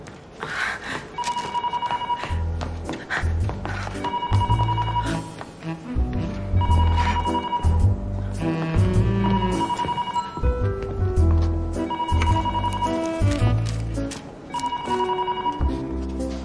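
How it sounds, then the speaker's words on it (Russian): A telephone rings repeatedly in an office scene, its trilling bursts recurring over busy background sounds and music-like tones. "И снимите кто-нибудь трубку."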